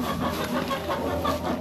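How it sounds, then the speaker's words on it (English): A laying hen clucks in a steady, chattering run, close by and fairly loud against a noisy farmyard background. "you guys have been hearing that hen"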